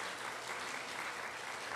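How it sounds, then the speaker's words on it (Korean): Congregation clapping during a church worship service, a continuous, even wash of applause from many hands that holds at a moderate level for the whole stretch. "박수 한번 좀 보내주시겠습니까?"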